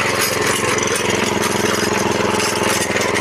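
A walk-behind grass-cutting machine runs in first gear while cutting grass for cattle. Its engine chugs loudly and steadily up close, with a rapid rhythmic knocking throughout and no pauses.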